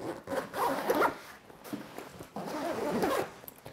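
A backpack built for a 17.3-inch gaming laptop zips shut in two long, close rasping pulls with a short pause between them, heard alone.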